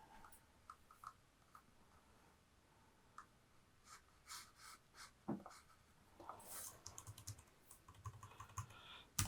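Soft, irregular typing on a 27-inch 2020 iMac keyboard: scattered key taps and short bursts, quiet and close, with a few louder clicks near the end and no talking.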